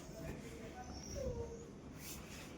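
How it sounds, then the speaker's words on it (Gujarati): A female pet dog gives a faint, thin whimper amid a quiet, steady background hum, close by but soft and brief. "આ મારી પાલતુ કૂતરી છે, દરરોજ આવીને અહીંયા બેસે છે."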